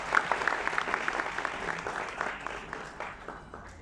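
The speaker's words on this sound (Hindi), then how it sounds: "आपकी भरपूर तालियों में" Audience applause at a flute concert, a steady wash of many hands clapping with individual claps standing out, moderately loud and gradually easing off toward the end.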